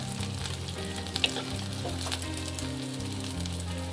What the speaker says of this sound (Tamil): இப்போ வெங்காயம், இந்த பூண்டு எல்லாமே நல்லா வதங்கிடுச்சு. எண்ணெயில் பாருங்கள்